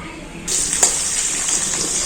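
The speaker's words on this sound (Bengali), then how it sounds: "এই নুন আর হলুদ দিয়ে আলুটা একটু ভালো করে ভাজা হয়ে গেছে" Potatoes seasoned with salt and turmeric fry in a pan, a bright hissing sizzle that jumps up sharply after a quiet start and then carries on steadily, with a small clink partway through.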